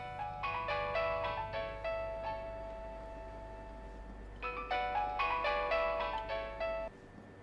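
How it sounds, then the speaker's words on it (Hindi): A phone rings with a bright electronic melody, two bursts of repeated tones separated by a pause, loud and close. "क्यों फोन नहीं उठा रहे हो उनका?"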